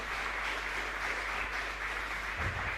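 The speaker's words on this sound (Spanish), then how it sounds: "Y un fuerte aplauso a nuestra comunidad." Applause from a church congregation at a live Mass in a chapel in Ñemby, a steady wash of clapping from many hands that runs unbroken for a few seconds.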